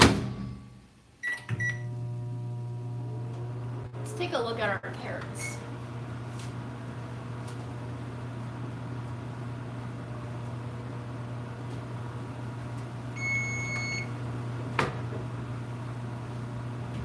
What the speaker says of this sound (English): another round in the microwave